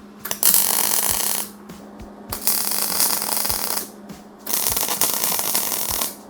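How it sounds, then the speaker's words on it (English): A nut held by a bolt is tack welded onto steel for a truck bed rack, heard as three crackling, buzzing weld bursts of a second or more each, separated by short quiet gaps. "All right, so I've got it tacked in place."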